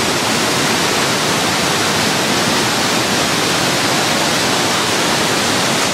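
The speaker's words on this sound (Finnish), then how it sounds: "Korkeakoski on Suomen korkein vapaana virtaava koski." Korkeakoski rapids in Finland, the country's highest free-flowing rapids, produce a loud, unbroken roar of rushing water that stays dense and steady throughout, with no voices heard.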